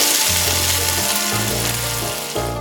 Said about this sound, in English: drop the meat soaked in Cheetos into the pan. Fry until the meat is burnt.